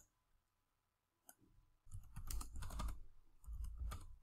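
Keys clatter on a computer keyboard in a quiet room: one lone tap, then a close, busy burst of rapid typing, a short pause and another quick run of keystrokes.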